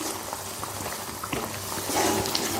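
Chana masala gravy boils in a pan with thick, close bubbling and popping in a dense, irregular patter that grows a little louder toward the end, with no talk over it.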